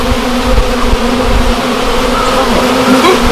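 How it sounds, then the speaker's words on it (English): Male honeybees buzz loudly and steadily close by, a dense continuous drone from a beehive with no pauses and no speech. "These are the male honeybees. They don't have a stinger."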